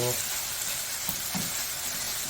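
Potatoes frying with chicken in a pot for chicken macaroni, a loud, even sizzle held for a couple of seconds with a faint stirring knock.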